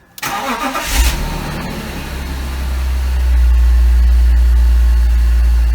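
A BMW E39 530i cranks briefly and catches, the engine settling into a steady, loud, close idle with a deep low rumble that grows fuller after a few seconds.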